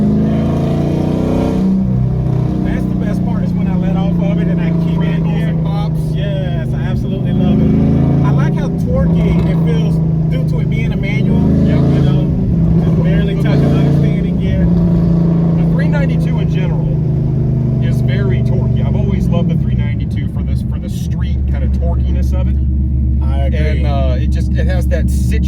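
Cammed Dodge SRT8/Scatpack pulling through a partial-throttle third gear acceleration, a loud, continuous deep engine drone that rises steadily in pitch for about twenty seconds before easing off, with rough, choppy exhaust texture near the end.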